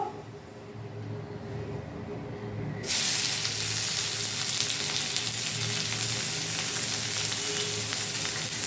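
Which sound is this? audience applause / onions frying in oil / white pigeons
onions frying in oil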